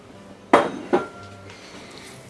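Chicken meatball mixture with an extra quarter cup of breadcrumbs being stirred in a bowl: two sharp utensil knocks against the dish, near and fairly loud, followed by quieter scraping and handling.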